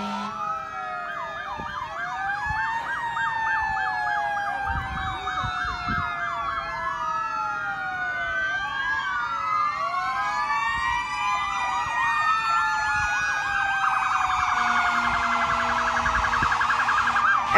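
Several emergency vehicle sirens wail together at a graduation parade, including a rescue unit and a fire engine, overlapping rising and falling tones sustained throughout, loud and close, with a horn-like blast near the end.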